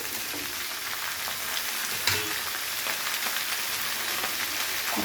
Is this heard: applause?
no